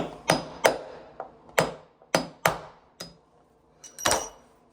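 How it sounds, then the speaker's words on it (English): A hammer taps a nail into PVC base moulding at a bathroom vanity in a series of sharp, close metallic knocks, about a dozen irregularly spaced strikes with short ringing decays. "Now I'm just gonna tap that nail in."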